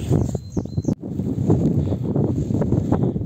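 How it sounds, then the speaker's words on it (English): Steady gusting wind buffets the microphone outdoors on a rainy, cold mountain trail in Croatia, a dense rumbling roar with brief dips, with no other clear sounds. "Rainy, windy, cold day."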